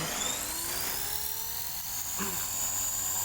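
A small KDS 450QS RC helicopter's rotor whines steadily with a rising high-pitched motor tone as it spins up, continuous and close.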